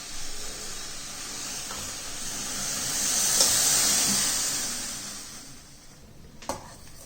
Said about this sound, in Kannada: ನೋಡಿ, ಚಹಾ ಸೂಪರಾಗಿ ಕುದೀತಿದೆ.